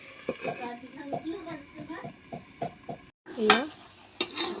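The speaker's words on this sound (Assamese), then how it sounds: "এতিয়া মই লৰাই দিছোঁ" Vegetables being stirred in a cooking pan, a series of soft rhythmic scraping strokes heard close and faint, followed by a sharper clink, with a person talking over the sounds.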